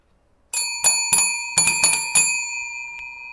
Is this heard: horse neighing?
no